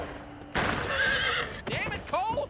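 A horse in the Western video game GUN lets out a loud, drawn-out whinny after being shot, followed by shorter, broken neighs and cries.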